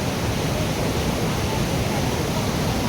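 The waterfall at Thirumoorthy hills pours steadily, a loud and unbroken wash of roaring water with no pauses or changes.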